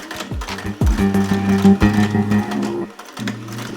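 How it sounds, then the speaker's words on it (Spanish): A sewing machine runs in bursts while stitching a straight seam in fabric for triangle pattern weights, its motor hum steady and close, pausing briefly before restarting. "Y entonces hacemos nuestra costura recta."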